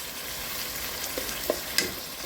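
Chopped vegetables sweating and cooking down in a pan for crab rice, a soft steady sizzle with a few light utensil taps and clinks near the end.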